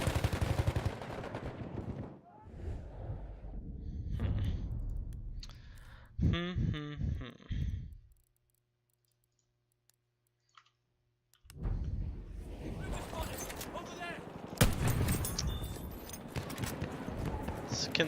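Battlefield 1 gunfire cracks in rapid bursts with mechanical clicking and reloading sounds, then falls to near silence for a few seconds before loud shooting resumes.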